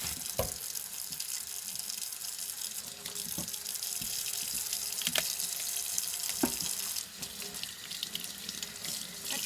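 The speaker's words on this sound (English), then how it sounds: "So let's go over to the sink and let's wash these." Cold tap water running steadily into a kitchen sink while celery stalks are washed, a continuous close splashing with a few louder knocks and splashes as the stalks are handled.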